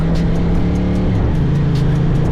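A Moto Morini adventure motorcycle is ridden slowly around town, its engine a steady close drone whose pitch dips and rises as the rider shifts, with a constant rush of wind.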